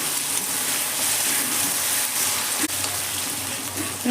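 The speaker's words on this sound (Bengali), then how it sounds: "খুলে দিয়ে পেঁয়াজটাকে খুব ভালো করে আমি নেড়ে নিচ্ছি" Onions frying in a pan for spicy Bengali chicken curry, a steady broadband sizzle throughout with faint stirring scrapes and a brief clink near the end, no voices.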